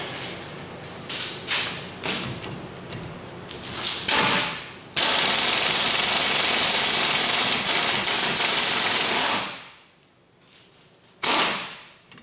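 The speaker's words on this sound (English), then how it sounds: "I'm going to get the impact gun out and see if I can start to draw that bolt through" An impact gun hammers a seized shackle bolt loose in loud, sustained bursts, with a short rattling start, then a long close run that stops, a pause and a final brief burst.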